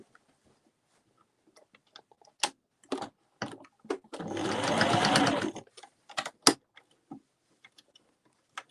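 A sewing machine runs in one steady burst of stitching on a printed beach bag, close and clear, framed by scattered clicks and handling taps before and after in a quiet room.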